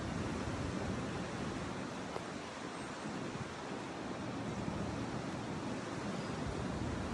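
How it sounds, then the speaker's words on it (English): Strong gusty wind outdoors in Canton, Ohio, a loud, steady roar of wind buffeting the microphone throughout, with no pause. "God damn, it's windy."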